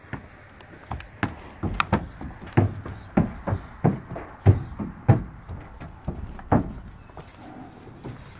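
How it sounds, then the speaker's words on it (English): Hooves clomp on the hollow floor of a four-horse straight-load trailer in a steady series of heavy, booming steps, close by, as a horse walks in over several seconds. "so your first horse goes in."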